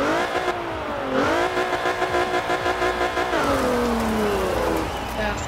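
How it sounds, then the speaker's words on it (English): Car engines start and rev in the racing game Forza Horizon 4, with a 665 hp car rising and falling in pitch through several close, loud revving sweeps while someone talks over them. "we'll start up our engines"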